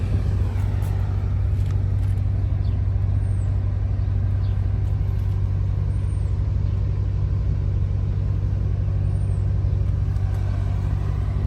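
Steady, loud idle of a 1970 Ford Mustang Mach 1 V8 with a four-speed and shaker hood, a continuous low rumble that holds even throughout, with no talking.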